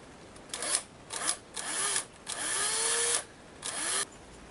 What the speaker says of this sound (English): So I've got to use a big drill.